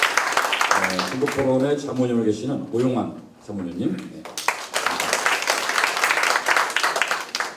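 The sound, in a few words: audience applause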